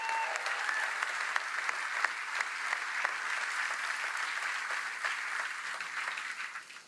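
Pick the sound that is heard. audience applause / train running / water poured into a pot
audience applause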